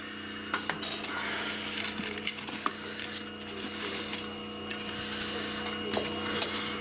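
Scrap wood is tossed into a wood stove in a tiny house, giving scattered clunks and knocks of wood against metal over a low steady hum.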